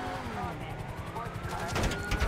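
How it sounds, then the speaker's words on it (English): Police opening fire in the video game GTA 5 during a car chase: a rapid burst of close gunshots rises near the end, over continuous engine rumble and someone talking. "they're gonna start shooting"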